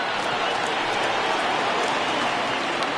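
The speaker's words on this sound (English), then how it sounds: "Crowd gets up for the 3-2." A stadium crowd in the baseball video game MLB The Show 20 rises and cheers on a full 3-2 count, a steady, dense roar with scattered claps and shouts that holds loud and unbroken throughout.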